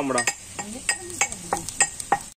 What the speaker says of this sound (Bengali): এবার পেঁয়াজগুলো আমরা কোঁড়ার মধ্যে দিয়ে নেব। কোঁড়ার মধ্যে রসুন দিয়ে দেবো